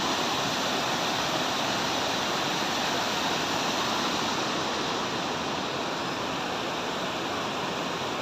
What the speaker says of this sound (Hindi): अब हम पहुंच गए थे इस वाटरफॉल के पास।